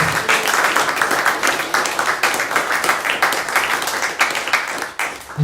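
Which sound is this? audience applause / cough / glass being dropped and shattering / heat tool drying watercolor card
audience applause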